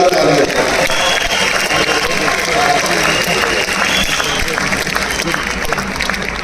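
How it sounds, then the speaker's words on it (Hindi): Dense, steady applause from a large audience clapping for women in business, loud and sustained throughout with a murmur of crowd noise underneath. "इसलिए लेडीज के लिए जोरदार तालियां।"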